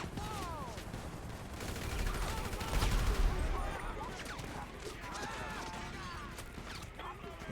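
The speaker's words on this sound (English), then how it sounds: "We got the explosive ammo turned on." Explosive-ammo gunfire in a Grand Theft Auto Ghostbusters mod, a dense fusillade of rapid shots and blasts swelling to a heavy boom near the three-second mark, with game effects and a voice talking over it.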